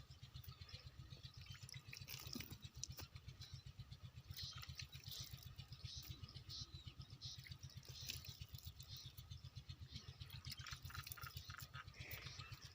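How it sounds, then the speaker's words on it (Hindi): Water poured over potted vegetable plants in a home garden, applied like a sprinkler: a steady, close patter and trickle of droplets running the whole way with no talk. "ये एक फव्वारे की किस्म की तरह मैं इस पे जो है पानी अप्लाई कर रहा हूँ"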